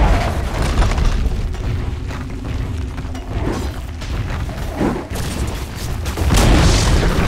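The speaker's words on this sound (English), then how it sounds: "Dire's top tower has fallen" A tower collapsing in a Dota 2 match, heard as a deep booming crash within continuous game effects and ambience, with the impact building through the middle of the clip.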